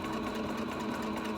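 A sewing machine hums steadily and close while sewing denim shorts, one continuous even run with no pauses.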